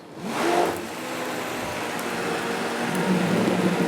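A Vitamix blender mixes gazpacho after being turned down to a lower speed, giving a steady whirring motor hum with a swell near the start, then an even, moderate drone.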